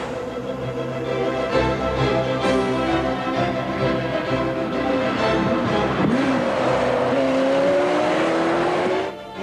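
A Ferrari sports car driving on a race track, its engine a steady loud rising and falling whine with gear-change dips, close and continuous throughout.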